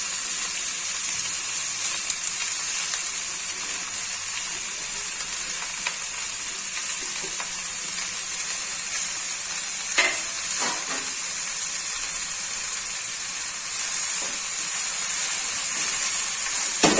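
Chopped bottle gourd sizzles and fries steadily in a hot pan, a dense continuous hiss with occasional soft stirring clatters and spatters, close and fairly loud, with no talking.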